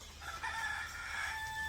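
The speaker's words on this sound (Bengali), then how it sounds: "আবার মুরগিতে ডাকাডাকি শুরু করে দিছে" Chickens in a village yard cluck and a rooster crows once, a faint, short burst heard at a distance with no voices.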